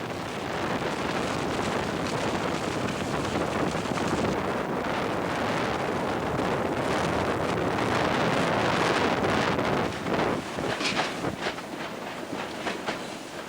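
Strong wind roars without a break on Mount Everest at a high camp. It is loud and constant, with gusty buffeting that batters the microphone.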